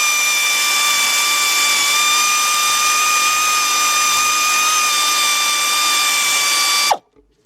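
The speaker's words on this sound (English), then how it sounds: "get these two 10 millimeter bolts out of here" A power ratchet on a 3/8 drive with a 10 mm deep socket backs bolts out of a 2004 Chevy Monte Carlo 3.4 lower intake manifold. It makes one loud, steady high whine for about seven seconds, then stops abruptly.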